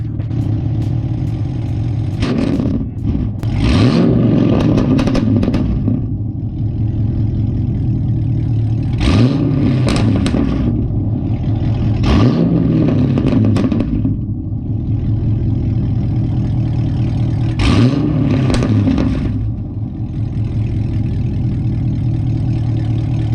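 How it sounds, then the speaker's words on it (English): A Pontiac G8 GT engine idling loudly up close with a cam-like lope, revved sharply several times, each rev rising and falling before settling back to a steady rumble. "I'm gonna rev it a couple of times and just come back and watch the camera"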